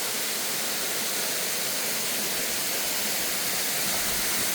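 Wibong Falls, a two-tiered waterfall, pours in a dense, continuous broadband roar, loud and close, steady throughout with no other sounds.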